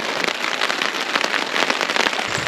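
Steady patter of unexpected rain drumming on a tarp shelter at a riverside beach camp, a dense, even crackle of drops lasting throughout, close and fairly loud with no voices.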